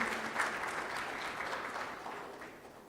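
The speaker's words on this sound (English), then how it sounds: "Ladies and gentlemen, give a round of applause for Mr." An audience at a seminar in Dubai applauds Mr. Patel before he speaks, producing a steady, moderately loud roomful of clapping that continues evenly and slowly fades.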